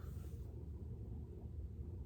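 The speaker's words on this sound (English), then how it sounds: "that's my fridge making those noises, if you can hear them on camera" A home refrigerator hums and rumbles in a low, steady drone, faint and continuous for a couple of seconds with no speech over it.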